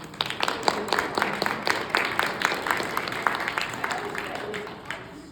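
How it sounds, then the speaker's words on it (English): Audience at a caucus's 50th-anniversary gathering giving a round of applause, steady hand clapping at moderate distance that sustains for several seconds and gradually thins out. "I think we'll have a round of applause."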